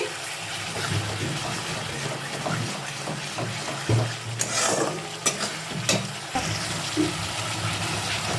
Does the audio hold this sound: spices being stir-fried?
yes